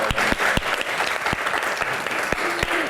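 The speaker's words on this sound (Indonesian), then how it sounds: "kita berikan tepuk tangan yang paling meriah untuk bintang tamu kita" Studio audience giving lively applause for a guest star at a Q&A talk show; loud, dense, continuous clapping from many hands with a few sharp individual claps standing out.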